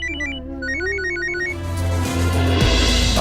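A telephone rings in a repeating electronic ringtone pattern of short high tones, heard alone over a swelling background score with no talk.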